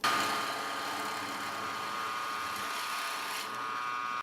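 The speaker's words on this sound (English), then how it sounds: "This is called a Forstner bit" A steady whirring drill with a Forstner bit bores a clean hole into wood, a continuous high motor whine with a brief strain near the end.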